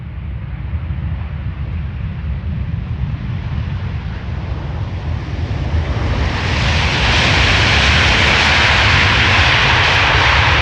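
At Amsterdam Schiphol, an arriving airliner's engine roar builds steadily and loudly as it lands. It swells into a sustained, powerful rush as the reversers engage, with some wind noise on the microphone.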